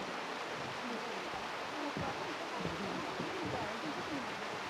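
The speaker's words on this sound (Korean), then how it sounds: "용연폭포는 주황산 폭포 중 가장 크고 웅장합니다" Yongyeon waterfall, the largest and grandest falls on a Gyeongsang-do mountain, pours in a constant dense roar, with low thumping surges of water beneath the broad steady rush.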